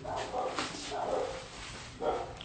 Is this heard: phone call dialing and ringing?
no